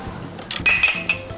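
Glasses of rosehip purée juice clink together in a toast: a couple of bright glassy chinks close by, the main clink ringing briefly, amid faint handling noise.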